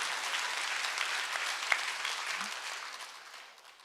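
A church congregation at a summer revival service applauds, a broad, dense roar of clapping from a large crowd that holds steady and then gradually fades away toward the end.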